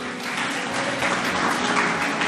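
A church congregation applauds during a communion service, a dense sustained wash of clapping from many hands filling the room at steady loudness.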